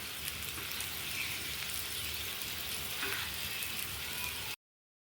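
Elephant foot yam pieces frying in a pan over a medium flame give a steady, close sizzle with fine crackling throughout, then cut off into silence.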